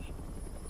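A helicopter starting up in the Resident Evil 3 Remake video game gives a brief, constant loud rotor whir and engine hum.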